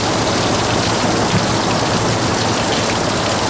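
Steady, loud rain pours down and patters on surfaces, a dense, unbroken hiss of drops with no voices over it.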